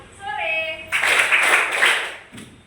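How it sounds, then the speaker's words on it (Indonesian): An audience claps together on cue in a classroom session, a dense burst of hand claps lasting about a second and a half that ends abruptly. "Kalau saya bilang sore, kalian tepuk 3 kali."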